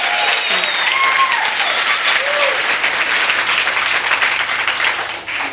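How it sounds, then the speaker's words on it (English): Church congregation applauding, a dense, steady wash of many hands clapping that holds evenly for several seconds and then tapers off at the end. "Penelope Williams, she deserves another round of applause."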